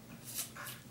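A voice imitates a dog's bark with one or two short, breathy woof sounds, close and fairly loud, in a single brief burst.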